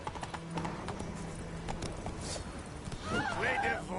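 Hooves of the horse Roach clip-clop at a steady gallop in The Witcher 3 on PS5, a close, continuous rhythm with a brief voice and busier game sounds rising near the end.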